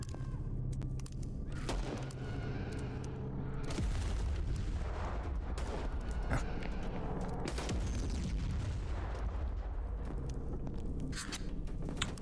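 Dense, sustained gunfire and booming blasts from the brutal first-person shooter game VLADiK BRUTAL, loud and continuous throughout with heavy low rumble and scattered sharp reports.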